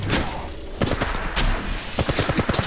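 Rapid gunfire from an Apex Legends match comes as dense, loud bursts of shots, with a short lull between clusters and no talking.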